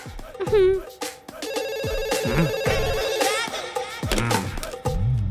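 A telephone rings with a repeating electronic tone in a dramatic film scene. Bursts of voices and sharp clattering sound effects overlap the ringing throughout.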